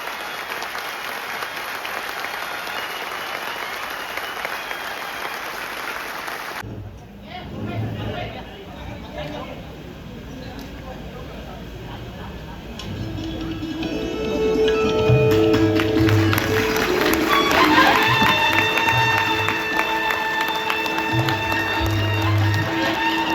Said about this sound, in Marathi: दोन मिनिटं टाळ्या अशाच वाजवल्या पाहिजे